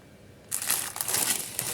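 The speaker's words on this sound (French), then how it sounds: "dans un petit sachet qui fait du bruit" After a brief quiet moment, a plastic packet crinkles loudly and continuously up close.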